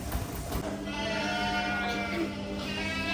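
Goats in a UK rapid-exit milking parlour bleat over a constant mechanical hum, their wavering cries rising a few times above the steady machinery drone.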